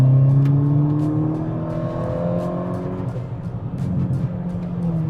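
A Volkswagen MK6 GTI accelerates hard on the road, its engine note rising steadily and loud from inside the car with a rushing whir beneath.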